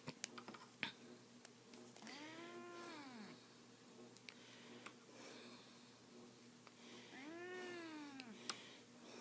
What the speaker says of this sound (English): That's my cat meowing at me.